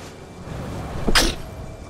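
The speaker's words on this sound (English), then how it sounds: "Oh, sorry for the sneeze that snuck up on me." A single sudden sneeze bursts out around the middle of a quiet indoor moment, brief and fairly close, over a low steady background hum with no talking.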